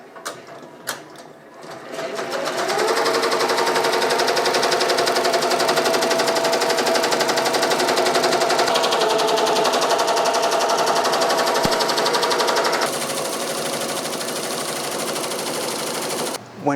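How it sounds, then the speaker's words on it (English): A Ricoma embroidery machine starts up and runs, a fast continuous needle chatter building within a couple of seconds into a steady mechanical drone that shifts slightly in tone partway through, close and fairly loud. "I'm going to press start right here on the machine. It's going to start embroidering."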